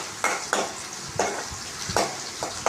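Ingredients for puli kulambu, a tamarind curry, sizzle and are stirred in a pan, with a spoon scraping several times at an uneven pace, close and moderately loud.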